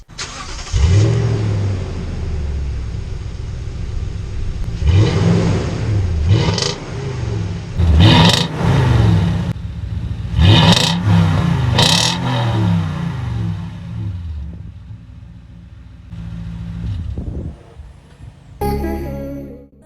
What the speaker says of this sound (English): here's what the stock exhaust system sounds like